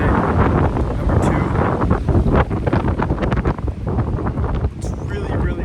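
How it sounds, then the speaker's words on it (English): Strong wind at a lakeside campsite in the Boundary Waters in early October buffets the microphone in loud, gusty rumbles, with a voice speaking underneath the roar. "It's really, really windy."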